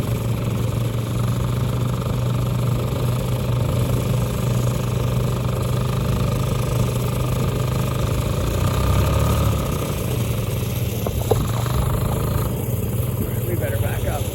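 A snowblower mounted on a four-wheeler runs through snow drifts with a steady, droning engine hum, its pitch shifting slightly as it works, while faint voices sit under the noise.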